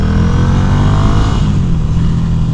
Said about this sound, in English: I'm riding the darn Ducati.